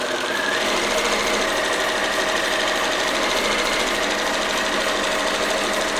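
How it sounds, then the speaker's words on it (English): A sewing machine stitches nonstop, a fast, even mechanical clatter up close and fairly loud, with no voices. "with your sewing machine, leave your needle down so it'll hold itself in place"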